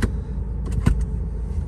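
The handbrake lever of a Ford Focus with 225,000 km is set back inside the car, giving a few short mechanical clicks and a ratcheting clunk over a low cabin hum, close up and with no talking.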